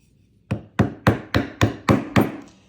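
A hammer taps a carving tool into the wood of a violin scroll, seven sharp, evenly spaced strikes ringing out close and loud in an otherwise quiet workshop.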